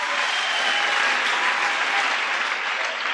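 An audience claps for a volunteer at a church planting event in Hazyview, South Africa. The applause is steady and dense throughout, a crowd clapping together without pause.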